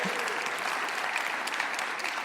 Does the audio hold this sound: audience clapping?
yes